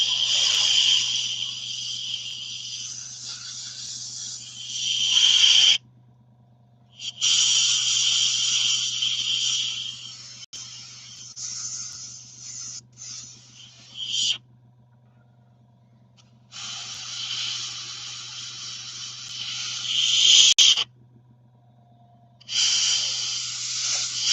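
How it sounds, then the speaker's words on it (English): An air compressor set to lowered pressure drives an airbrush painting wargaming vehicle models, giving a loud, close hiss. The hiss comes in several long bursts of several seconds each, separated by short silent pauses, with a low steady hum underneath. "I've dropped the pressure on the compressor"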